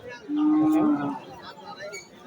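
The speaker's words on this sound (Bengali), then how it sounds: "আরো একটা বাচ্চা দেখাচ্ছি এই বাচ্চাটা তো মনে শাহিওয়াল নাকি শাহিওয়াল" A Sahiwal calf at a cattle market gives a single short, nasal moo close by, followed by quiet background murmur.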